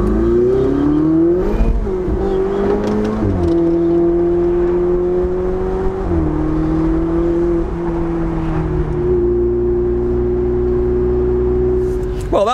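A Ferrari 488 engine is heard close up and loud, revving and pulling away through several rising, shifting engine notes as it drives off.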